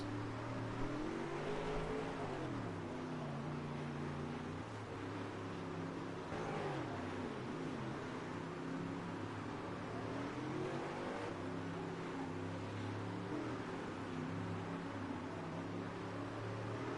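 Super Late Model race cars racing at Fairbury, a steady loud engine roar with layered, rising and falling pitches from several cars running together throughout.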